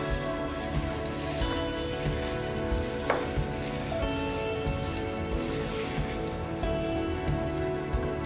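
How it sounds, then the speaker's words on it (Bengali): Rice frying with meat in a pan for tehari, a dense, loud crackling sizzle like rain close by, with occasional stirring scrapes and clinks, no talk. "আপনারা শব্দ শুনেই বুঝতে পারছেন যে চালটা কিন্তু ভাজা হয়ে গেছে প্রায়"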